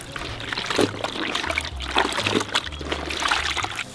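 Rinse water from a dyed purple hoodie poured out onto a grass lawn outdoors, a steady mid-level trickling and splashing that swells and eases in uneven surges for several seconds, with no talking.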